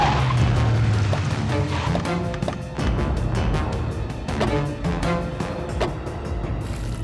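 A car braking hard to a stop, with a tire squeal and skid rising over rumbling engine and street noise, loud and close, lasting several seconds with music-like tones mixed in.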